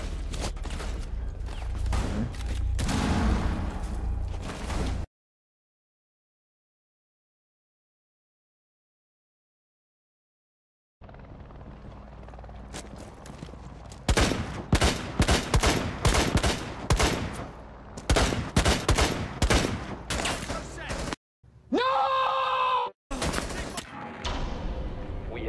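Rapid bursts of gunfire from a Rainbow Six Siege match crackle loudly after a stretch of total silence, with repeated sharp shots clustered together and game noise between them.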